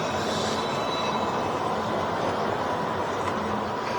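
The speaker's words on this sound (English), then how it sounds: "Trams." Tram rolling along city rails in Amsterdam, a steady broadband rumble with faint wheel squeal, continuous and fairly close with no speech over it.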